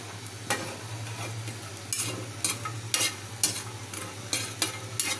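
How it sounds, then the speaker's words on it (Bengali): Dried fish (shutki) frying in a pan, with a steady sizzle under a series of sharp scraping stirs that come roughly every half second. The sound is close and there is no talking. "শুটকি মাছটা আমরা ভাজি এই যে আমি ভাজা নেব"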